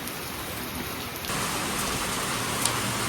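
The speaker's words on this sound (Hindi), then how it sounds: "क्योंकि बहुत तेज़ बारिश हो रही है" Heavy rain pours in a dense, steady hiss that grows louder partway through and then holds constant, with no voices over it.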